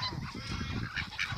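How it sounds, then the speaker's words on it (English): Hungry geese honking and begging in a noisy cluster, several overlapping calls with a couple of louder honks standing out near the end. "Some hungry geese."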